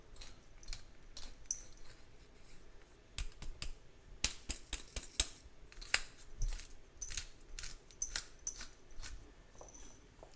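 A hand pepper mill grinds pepper over a mac and cheese dish, giving a run of quick, dry, crackling clicks in irregular bursts, close and fairly faint, with no talking.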